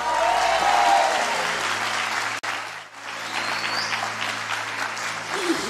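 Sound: congregation applauding in church

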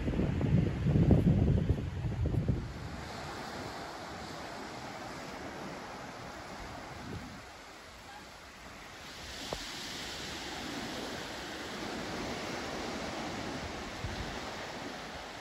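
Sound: ocean waves on the beach at Diani Beach

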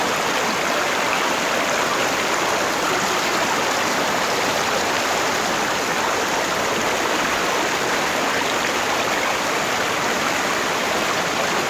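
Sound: river flowing in El Salvador

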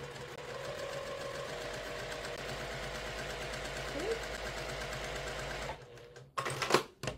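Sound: sewing machine test run

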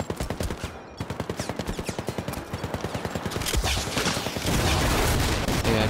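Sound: gunfire from a gun in the video game Syndicate

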